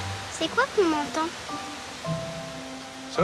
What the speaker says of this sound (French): Ça, c'est le bruit du vent dans les feuilles.